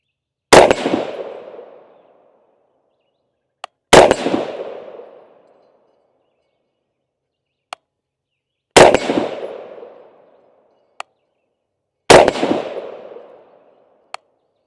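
Four loud, sharp rifle shots fired at a target through a Pulsar Thermion Duo DXP55 scope, each cracking outdoors with a long ringing echo tail, spaced a few seconds apart, with faint metallic clicks between them.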